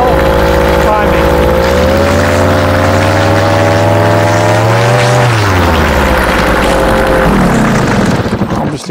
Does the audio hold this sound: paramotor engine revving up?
yes